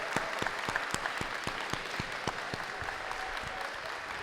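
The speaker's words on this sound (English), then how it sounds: "Let's give them a round of applause." A crowd at the Peralta Colleges Raices graduation applauds faculty and staff with steady, moderately distant clapping, a few sharp claps standing out over the general patter.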